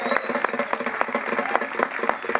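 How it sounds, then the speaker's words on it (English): Audience clapping for a live band at an outdoor listening room, with individual claps heard in a fairly sparse, irregular rhythm from a small crowd. "if you'd give them all a round of applause"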